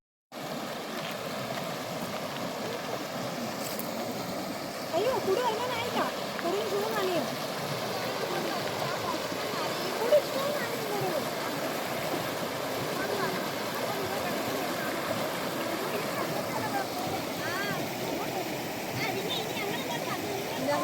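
A river flows steadily with a continuous, moderately loud rushing, and muffled voices are faintly audible beneath it.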